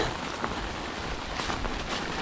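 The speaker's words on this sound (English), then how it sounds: "after I said that last thing about no rain, they decided to start" Rain starting to fall during a hike on the Alabama Pinhoti Trail, heard as a steady, close patter and hiss of drops with a few slightly louder taps and no talking.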